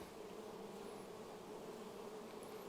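Honeybees at an apiary hive buzz in a steady, low, continuous drone, close and even, with a few individual bees whining past.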